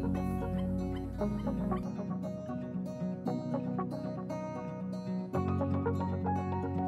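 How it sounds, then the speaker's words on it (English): Clucking chicken calls repeat in a steady, dense stream, loud and close, with layered bird voices overlapping throughout and no talking. "we use recordings of their natural environment and the calls of adult members of their species"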